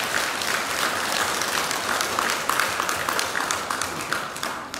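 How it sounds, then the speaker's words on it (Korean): An audience at a Saturday Buddhist temple service applauds, a dense, continuous wash of many hands clapping together from across a hall, steady and unbroken with no talk over it. "이분들께서 박수 한번 해주세요"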